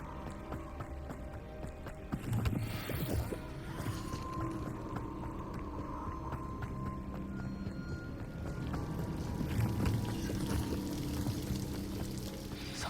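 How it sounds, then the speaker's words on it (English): A waterfall in the video game Hogwarts Legacy, a steady low rushing and pouring of water, fairly faint and continuous with some movement sounds and no talk. "The waterfall."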